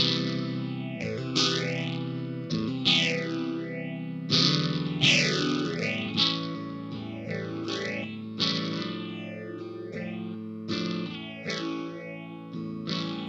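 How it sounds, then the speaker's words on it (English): B.C. Rich Mockingbird electric guitar played through a Spaceman Explorer phaser, its repeating chords swept by deep, wavering phase sweeps that rise and fall every second or so, steady and fairly loud with no talking. "Yeah, I've got a Spaceman Explorer phase on now."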